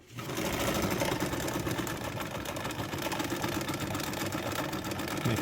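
A Bernina 830 Record sewing machine running steadily while sewing a blind stitch on fabric, a fast continuous mechanical whirring and ticking, close and even from start to finish.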